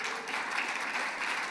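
Audience clapping during a hall of fame acceptance speech, a brief steady wash of applause from a large crowd with no break.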